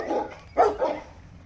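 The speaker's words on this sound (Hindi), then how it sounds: "उस दिन रेलवे स्टेशन पहुंचने पर कुत्तों की आवाज़ें भौंक के आने लग गई।" Dogs bark near a railway station, two or three short, sharp barks at close range that stand alone against quiet background noise.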